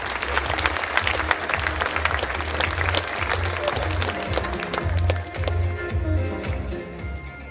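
Big round of audience applause at a sports gala, loud continuous clapping from a large crowd with a low rumbling hum beneath it.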